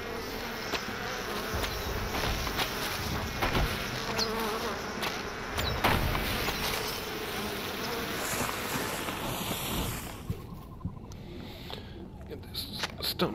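A dense, continuous buzzing of bees in the video game LOTRO fills the space, steady and close, with a voice talking intermittently over the drone.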